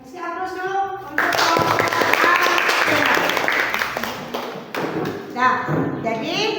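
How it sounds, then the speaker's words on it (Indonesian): A classroom group claps for classmates who have just presented, a loud burst of applause lasting several seconds, with a teacher's voice talking before and after it. "Kasih aplaus dulu untuk"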